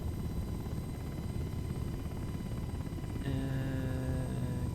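Steady whine and rotor drone of a UH-60L helicopter in a flight simulator game, continuous throughout, with an added tonal engine note rising partway as it lifts off and climbs.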